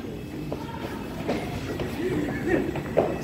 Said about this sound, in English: Back in Woking train station.